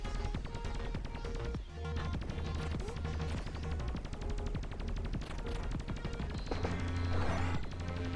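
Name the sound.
primary weapon shooting turrets apart in video game Baseless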